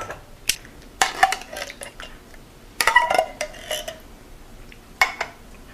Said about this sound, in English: I have a 14-ounce can of stewed tomatoes that I'm going to drain and add that to